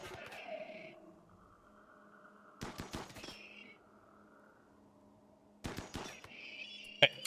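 Bursts of video game gunfire in a tactical shooter match, two clusters of rapid shots around the middle and end, close and sharp over quiet game ambience.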